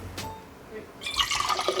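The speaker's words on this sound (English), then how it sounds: "I'm spilling a lot of water." Water spills and splashes in a kitchen while chicken, broccoli and rice cook, a faint drip first, then a burst of broad wet splashing for the second half.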